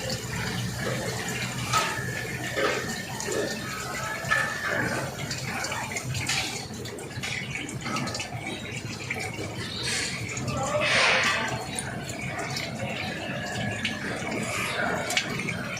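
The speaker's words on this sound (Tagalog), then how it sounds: "Ayan, umaandar na itong kanyang pump." A household water pump runs while water gushes and splashes out in a steady, noisy flow, with someone talking over it close by.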